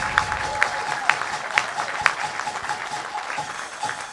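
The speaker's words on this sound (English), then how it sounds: "give your new members a big round of applause" Audience applause at a Rotary Club of Tucson meeting welcoming new club members, a moderate indoor round of clapping with a few sharper claps standing out, sustained for the full length.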